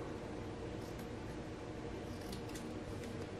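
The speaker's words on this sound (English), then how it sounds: "I'm going to cut this round just like so." Scissors cutting through a glued paper round for a Dollar Tree Christmas ornament, a faint, quiet snipping heard over a steady background hiss.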